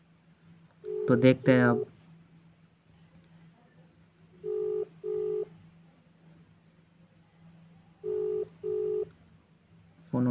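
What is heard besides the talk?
phone call tones, busy signal and dialing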